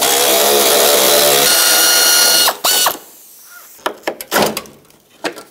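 A ratchet wrench spins out the two 10 mm bolts under the bumper cover of a 2006-2011 Chevrolet HHR: loud, steady ratcheting clicks at first, then short separate bursts of clicking with brief pauses between them.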